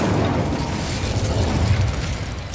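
Incendio fire spell in the video game Hogwarts Legacy, a loud, dense roaring whoosh of flame that sustains evenly for a couple of seconds before a sharp burst at the end.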